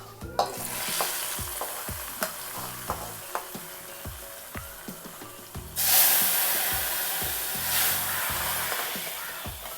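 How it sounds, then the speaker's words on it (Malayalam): Masala for an Angamaly-style fish, mango and coconut milk curry being stirred and fried in a pan. Regular spoon scrapes sound over a constant sizzle, and a louder hissing surge comes about midway. "നന്നായിട്ട് ഇളക്കി കൊടുത്ത് മൂപ്പിച്ചെടുക്കാം."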